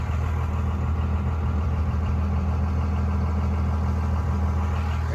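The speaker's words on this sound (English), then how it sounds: "a truck running for no reason" A truck engine idles close by at a crowded campsite, a steady low rumble with a constant mid-frequency drone holding unbroken and fairly loud throughout.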